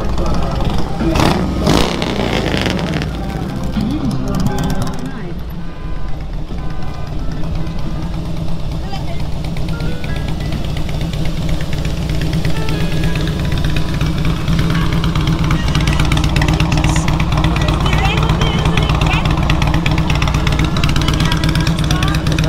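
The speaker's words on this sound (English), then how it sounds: "Motorcycle coming from way over here." A motorcycle engine drones steadily, swelling as it draws nearer, with voices murmuring faintly underneath throughout.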